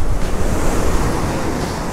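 Ocean waves break on a shore during a fishing outing, a loud, continuous roaring wash of surf with wind buffeting the microphone. No one speaks.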